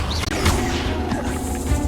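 A Confringo fire spell in Hogwarts Legacy bursting in a loud, dense crash with a sweeping whoosh, sustained noisy impact lasting a couple of seconds amid game combat.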